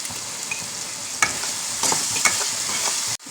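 Onions sizzle steadily in hot oil for Bengali prawn resala (chingri macher resala), with a few sharp stirring scrapes cutting through the close, continuous frying hiss before it stops abruptly.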